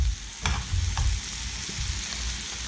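Kabayaki sizzles steadily in a saute pan after being turned, a close, constant frying hiss with a few soft knocks and scrapes near the start.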